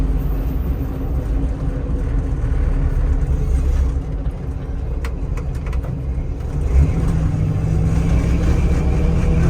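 A 1974 Ford Bronco Sport engine rumbles low and steady while driving, with road and cabin noise, a slight swell near the end and a few faint rattles.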